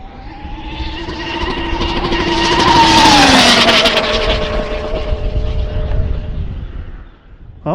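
A dual-motor RC car races along a runway, its high electric whine rising in pitch to a peak at mid-run and then dropping as it passes and recedes, loud and continuous with a faint sound at the very end.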